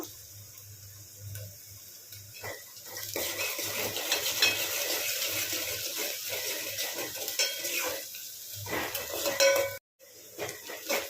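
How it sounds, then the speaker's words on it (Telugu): Onion, green chili and mint fry in a pan for chicken curry, a steady close sizzle with intermittent scraping of a utensil against the pan and a brief gap near the end. "ఉల్లిపాయ, పచ్చిమిర్చి ఇంకా పుదీనా అయితే మంచిగా వేగిపోయింది కదా"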